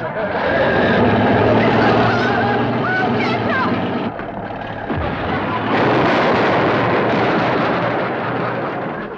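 An old truck crashes into a wooden chicken house, a loud sustained roar of engine and splintering debris with a sharp impact in the middle, while chickens squawk and voices shout over the din.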